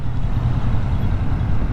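A 2020 Kawasaki Vulcan S motorcycle on the move in first gear, its engine a loud, steady low rumble mixed with wind rush, heard up close without talk.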